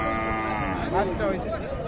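Cattle at a livestock market lowing in drawn-out moos, close by and fairly loud, over a background of crowd chatter and nearby voices.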